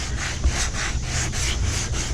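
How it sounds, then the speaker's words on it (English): Steady back-and-forth rasping of sandpaper on a fiberglass kayak hull, close and loud, in an even repeating rhythm with no voices. "All right, get sanding again on the others."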